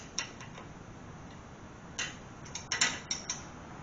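A wrench works a loose nut on a 4-post automotive lift, giving a few faint metallic clicks and ratcheting ticks in short clusters over a quiet background.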